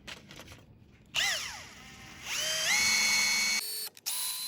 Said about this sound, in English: now it's time to drill the mounting holes for the circuit board